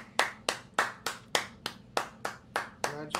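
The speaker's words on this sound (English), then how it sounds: "Standing ovation, everybody." Hands clap about ten times at a steady pace in a mock standing ovation, each clap sharp and close, ending on a slightly muffled final clap with a brief vocal sound.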